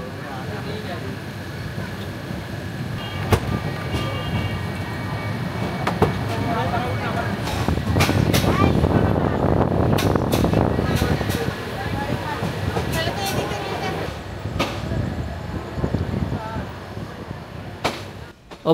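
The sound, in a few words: passenger train running, Cox's Bazar to Dhaka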